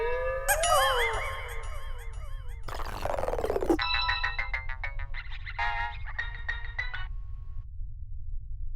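A phone rings during an outgoing call, with a melodic electronic ringtone of looping chimes and warbling tones, a brief noisy burst midway, then repeated beeping notes over a low steady hum.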